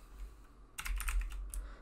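Rapid computer keyboard typing sets in partway through, a close burst of clicking keystrokes over faint low hum, with a short pause and then one more quick run of key taps.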